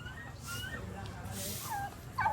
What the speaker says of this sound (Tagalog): Ay, may pabo, oh.